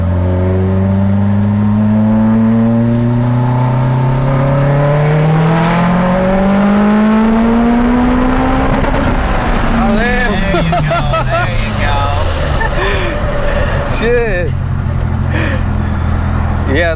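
A Mitsubishi Evo X with a built engine (stock sleeves, Callies Ultra I-beam rods, Wiseco pistons, GSC S2 cams, ID1300 injectors) accelerates hard, its engine note climbing steadily through the gears with a loud roar, shift breaks and turbo flutter, voices speaking over it.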